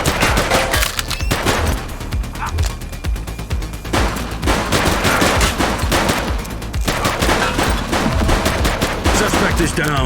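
Sustained automatic police gunfire from The Precinct video game on PC, a loud, dense fusillade of rapid shots that runs almost the whole time with a few brief pauses, with faint voices mixed in.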